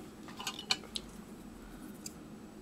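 Scissors snipping crochet yarn, a few quiet, sharp, close-up clicks spaced apart over faint background hiss.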